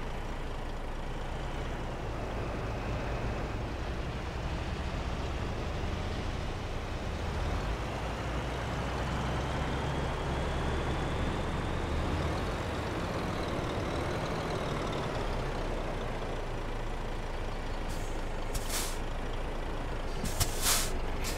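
A modified Komban bus rumbles along and slows to a stop, its engine droning low before several sharp, loud hisses of air brakes burst out near the end.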